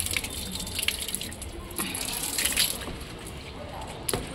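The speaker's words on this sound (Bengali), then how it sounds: "দেখ জল ছেড়ে দিচ্ছে" Water gushes from a tap after a pump is switched on, a steady broadband rush with splashy bursts throughout, close and fairly loud.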